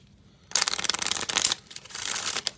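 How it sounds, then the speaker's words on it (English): A deck of playing cards is shuffled close up: a dense riffling burst of about a second, a short pause, then a second riffle, with no talk. "I'm going to go ahead and shuffle them up and deal out 3 separate piles"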